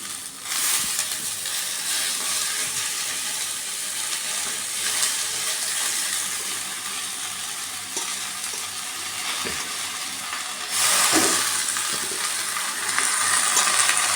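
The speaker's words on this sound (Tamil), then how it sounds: "இப்போ வந்து நம்ம கீரை போட போகிறோம் அரிஞ்சு அரிஞ்சு வச்சுருக்கிற மணத்தக்காளி கீரையை போடுறோம்" Chopped black nightshade greens fry with onions in a pan, giving a steady, loud sizzle with occasional stirring clatter and a sharper burst of hissing steam near the end.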